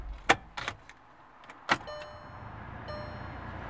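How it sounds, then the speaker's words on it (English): A 2013 Volkswagen Jetta is shut off: a few sharp clicks and clunks, likely key and switch sounds, followed by a quiet settling electrical hum with faint tonal whines. "So I'm just going to shut the car off."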